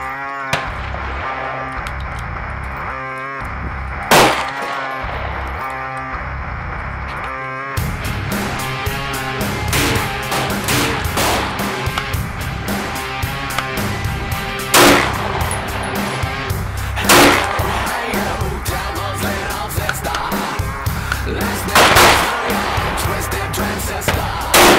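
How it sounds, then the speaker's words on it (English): Handguns and AR rifles fire at a USMC boot camp shooting range, with sharp, sparse gunshot cracks standing out over a dense, continuous wash of loud background noise. "we're shooting handguns and ARs right now"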